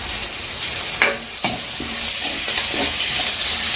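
Chopped garlic sautés in a pan for a Jaffna-style dry fish curry, a steady close sizzle broken by a few sharp scrapes and taps as it is stirred.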